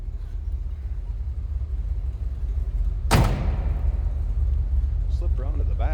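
A 1981 Chevrolet Camaro Z/28 coupe idles with a steady, deep low rumble, joined midway by a single sharp thump, while someone talks over it.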